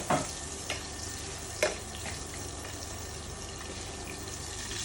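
Chicken sizzling skin-side down in a pan while being basted, a steady frying hiss with a few sharp clinks and spatters, close and fairly quiet.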